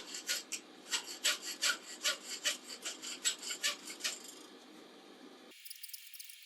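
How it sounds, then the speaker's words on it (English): A coarse file rasps across hot steel being shaped on a blacksmith post vise part, about a dozen rhythmic close strokes in steady succession, then the scraping stops and only faint clinks follow. "I'm going to do a little hot filing with a really coarse file"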